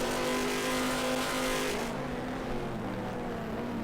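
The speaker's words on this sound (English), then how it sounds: "use that Ferrari engine to get past that Ford" GT1 race cars in a racing video game at the Montreal circuit, a Ferrari and a Ford, with loud sustained engine drone and tonal whine that shifts as one car pulls past, dropping in pitch toward the end.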